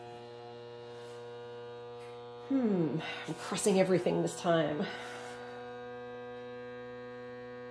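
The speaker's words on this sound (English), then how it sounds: "we've got that time counting away as it's vacuum sealing." An electric mason jar vacuum sealer hums steadily from start to finish at an even pitch, with a person speaking briefly over it partway through.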